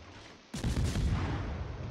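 Warship guns in a naval battle game fire into a smoke ring, a sudden heavy blast followed by a sustained loud rumbling roar, alone without talk.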